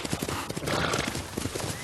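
Horse hooves clip-clopping in a fast gallop within the Ghost of Tsushima video game, steady rapid beats close up with a brief whinny, no talk.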